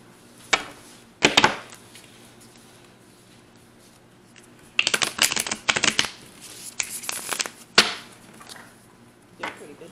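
Close-up riffling of oracle cards being shuffled in short, crisp bursts, separated by quiet pauses.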